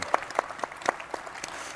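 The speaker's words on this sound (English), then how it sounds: "Let's give a round of applause for the beauty of freedom." Light applause from a small audience, a few distinct rhythmic claps about every quarter second standing out over a soft background of other hands.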